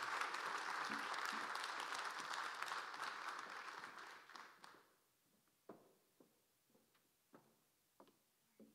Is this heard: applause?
yes